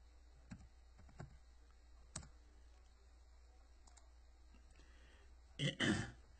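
Sparse, faint clicks of numbers being typed on a computer keyboard, a few isolated taps spaced apart, then a short louder burst of clatter near the end in a quiet room.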